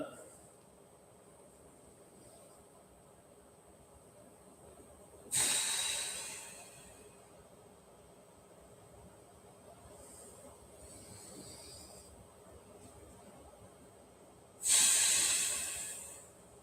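Slow breaths during a recovery stretching session, two long airy exhales standing out clearly over quiet room tone, with fainter breathing between them.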